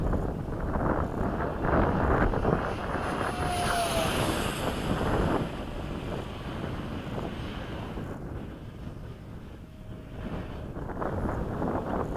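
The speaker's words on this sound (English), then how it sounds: "More of you can hear the air rushing around this fan." A model F-16 jet with a ducted fan passes overhead on its first flight of the day at Bayside, a broad, steady airy roar with a faint rising whine, fading slightly toward the end and heard without speech.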